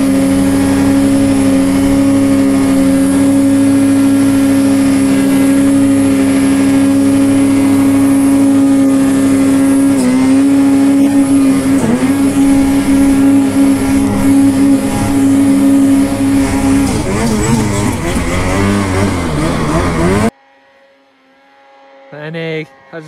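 Car engine accelerating on the road, a loud, steady close drone with the pitch climbing and wavering, then cutting off abruptly near the end into a quieter cabin with faint knocks.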